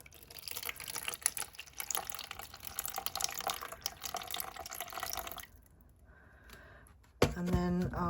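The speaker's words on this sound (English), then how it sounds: "So I'm going to start off by adding 105 grams of water" Water poured into a container to mix Aqua Cast resin, a broadband splashing stream running for several seconds at moderate level, then tapering off into quieter trickles and clinks near the end.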